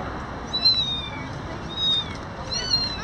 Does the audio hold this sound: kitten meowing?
yes